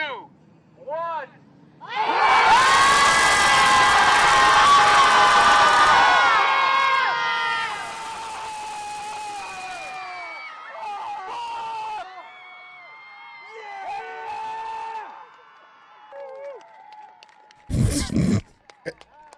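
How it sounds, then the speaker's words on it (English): A crowd of people lets out a loud, sustained group scream of frustration at a protest, then the noise breaks into scattered shouts and cries before a short sharp burst near the end. "Is it just like a group scream"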